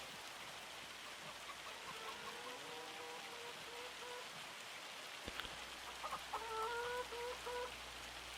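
Chickens in Farming Simulator 25 cluck and murmur in short bursts, first softly then louder near the end, over a continuous hiss of hail falling in the background.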